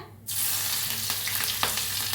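Mustard seeds, hing and green chillies hit hot oil on a low flame for curd rice tempering, a sudden loud burst of sizzling that settles into continuous close crackling with scattered pops.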